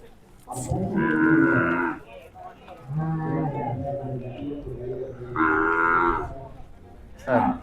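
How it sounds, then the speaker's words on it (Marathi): A 25-month-old Khillar heifer at a cattle exhibition in Chimangaon moos loudly and close by, giving several long, drawn-out calls in a row. "ते आता बरोबर 25 महिन्याची कालवड आहे"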